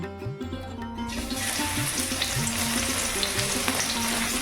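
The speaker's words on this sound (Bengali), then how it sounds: "ফোড়ঙে দিলাম একটা গোটা শুকনো লঙ্কা এক চামচ গ্রেট করা রসুন" A whole dried red chilli and a spoon of grated garlic hit hot oil in a kadai, bursting into a loud, steady sizzle that carries on with bubbling crackle.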